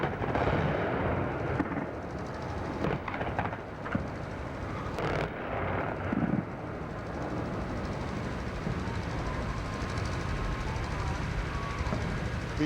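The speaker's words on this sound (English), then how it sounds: "The bombs apparently still falling, unless that was Iraqi fire, anti-aircraft fire that we were hearing." Heavy bombing and anti-aircraft fire over Baghdad at the start of the Iraq War: a few sharp, loud blasts in the first seconds, then a steady roar of distant rumbling.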